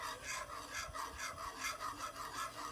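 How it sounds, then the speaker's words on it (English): A spoon scrapes rhythmically through a pan of béchamel sauce as grated cheese is stirred in, giving a soft, steady rasping that repeats in even strokes, close and quiet, with no talking. "And then I'm gonna add some of my grated cheese, and then just keep stirring."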